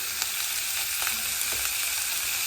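Mixed vegetables with green chilli, salt and turmeric crackle and hiss steadily in a hot pan. A spoon gives a few soft scraping knocks as the vegetables are stirred, with no voices.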